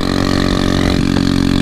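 A tandem scooter engine runs loudly without its exhaust fitted, a raw, steady buzzing drone with rapid pulsing and no breaks, close up and alone.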